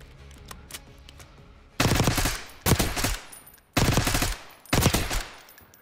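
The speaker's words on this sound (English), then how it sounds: "let's try it in the firing range" Automatic gunfire on a firing range in Call of Duty Black Ops 6: four loud, sharp bursts, each lasting about half a second to a second, separated by short pauses, over low background game ambience, with no talking.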